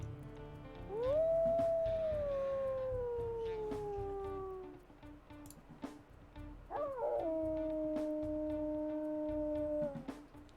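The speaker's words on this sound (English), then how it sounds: "Let's go ahead and check out his howls" A wolf in the video game WolfQuest Anniversary Edition lets out two long, clear howls, the first sliding slowly downward and the second a doubled, steady tone, loud and alone.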